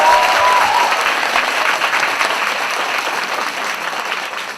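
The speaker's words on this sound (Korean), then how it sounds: "수연이가 하나님께 귀하게 쓰임받게 해달라고 박수 한번 해줘요." A church congregation applauds a youth receiving a certificate, giving a loud, continuous round of clapping that fades gradually over several seconds.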